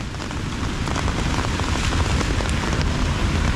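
Rain falling in Guatemala City, a dense, steady patter on surfaces that holds at constant loudness throughout, with scattered closer drips and no voices.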